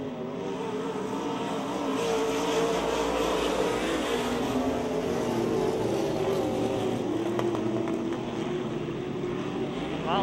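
Race cars circle the Speedzone track, a continuous loud engine roar that swells and fades as the cars pass at middle distance, with no talk.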